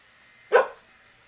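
A single short dog bark, close and fairly loud, standing alone against a quiet background.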